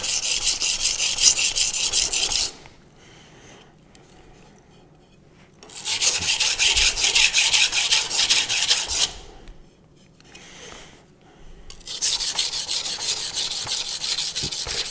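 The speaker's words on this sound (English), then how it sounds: "So technically it's a rougher stone because it's 200, even though it sounds less rough than the Shapton" Knife blade stroked across a Nano Hone 200 grit whetstone, steady rasping scrape in three long bursts separated by brief quieter pauses, close and loud with no talk.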